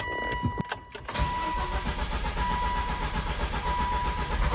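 A Volvo V70R cranks briefly and fires up for a test start, settling quickly into a steady, fairly loud idle that continues close by.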